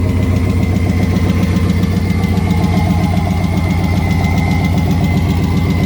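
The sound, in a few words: knocking engine noise from Nissan Altima with LS engine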